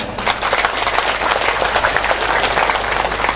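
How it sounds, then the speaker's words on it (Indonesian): Sustained applause from a mosque audience during a humorous Islamic lecture at the Islamic Center in Pasir Pangaraian, Rokan Hulu, a steady even wash of many hands clapping that stays fairly loud throughout. "tepuk tangan tidak terlalu kuat karena belum makan siang"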